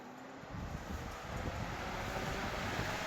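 A loud, steady rushing whoosh of air from a freshly cleaned industrial fan kicks in after a brief moment and holds constant, like a powerful fan blowing close by.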